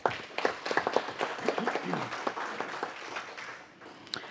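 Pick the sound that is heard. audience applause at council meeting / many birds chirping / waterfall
audience applause at council meeting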